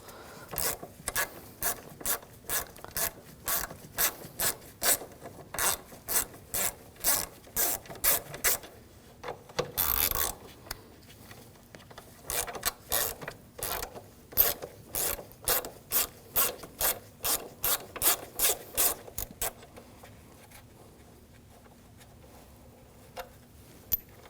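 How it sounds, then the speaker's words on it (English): Ratchet wrench with a 10mm socket loosening two nuts on a 2007-2013 BMW 328i 3.0L inline-six, rapid repeated clicking bursts in a steady rhythm, close up, with a brief rubbing pause midway. "Use a 10mm socket, take these two nuts off."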